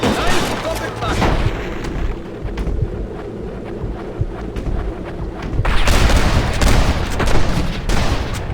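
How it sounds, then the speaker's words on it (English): Gunfire from attackers shooting down from a cliff in the PC version of Red Dead Redemption, with repeated shots over a windy, rumbling game soundscape that grows louder and denser toward the end. "They're shooting down on us!"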